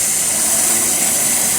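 An air compressor runs steadily at close range while a sprinkler system is blown out for winter, a continuous broadband mechanical hiss and hum holding even for the whole stretch without any speech.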